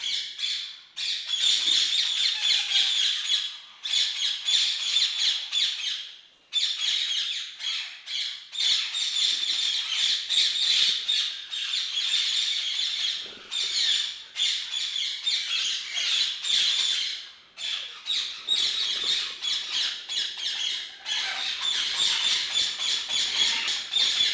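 Cacaripe parrots and other exotic birds at a large Brazilian breeding facility give loud, harsh squawks and chirps. The calls come in an almost unbroken, overlapping chorus with only brief pauses.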